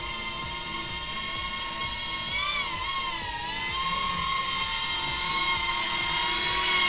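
An FPV drone running on a 1700 mAh high-voltage LiPo battery whines with a continuous high-pitched motor drone whose pitch dips and rises with throttle changes, steady and fairly loud throughout.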